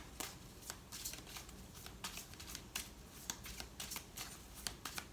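Oracle cards being shuffled during a tarot reading, a soft rapid riffling and flicking that comes in quick bursts, faint and close with no talk.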